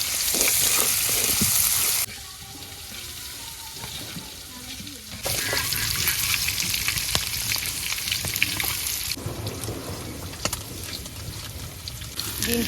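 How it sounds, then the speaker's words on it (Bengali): Eggs fry in oil in a village kitchen, a steady hiss and crackle with stirring scrapes; the sizzle is loud at first, drops briefly, then swells again and runs on. "এই তেলের মধ্যে ডিম গুঁড়িয়ে নিই"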